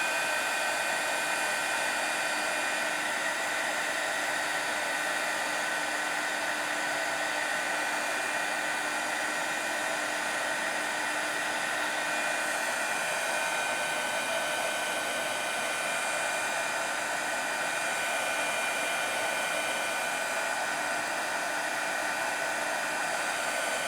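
A continuous, even whoosh of an embossing heat tool runs without a break for about 24 seconds as it heat-sets embossing from underneath a mixed media piece, close and steady, with no talking.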